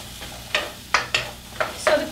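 Broccoli and other vegetables for a peanut butter stir fry are tossed in a hot pan, with five or six distinct scraping stir strokes over a quiet, steady sizzle.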